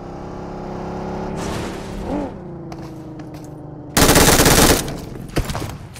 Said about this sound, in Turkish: Eyvah, araç.